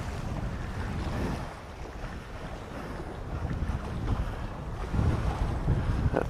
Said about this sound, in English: Ah, pretty windy.